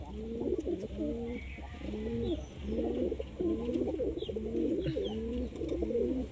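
Pigeons coo in repeated rolling phrases, several calls overlapping in a steady rhythm, close and clear over a low background hum, with no talk.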